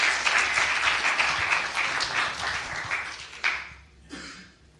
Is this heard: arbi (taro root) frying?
no